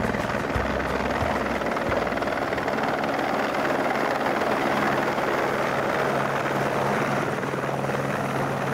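A helicopter flies over the rugged fjords of Kerguelen, its rotor and engine making a continuous, moderately loud whir with a steady beating rumble and no voices.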